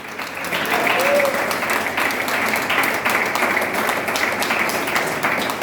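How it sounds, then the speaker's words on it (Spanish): Church congregation applauding in a steady, dense patter of many hands, fairly close and continuous throughout, with faint voices mixed into the crowd noise. "Aplaudan al que vive, aplaudan al que vive"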